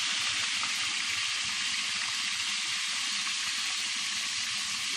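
Meat browning in a pan for an Iranian-style gosht dish, giving a steady, dense, loud sizzle that holds evenly for the whole stretch with no voices over it.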